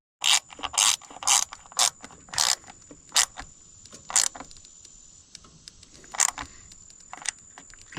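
A ratchet tightens the ignition coil bolts on a 1997 Toyota Century V12 engine in quick bursts of sharp clicking, with short pauses between strokes in a quiet workshop.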